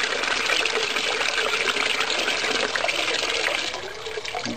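Filtered roof rainwater flowing out of a slow sand filter through a faucet, a steady splashing gush that runs continuously and eases slightly at the end, fairly close and alone.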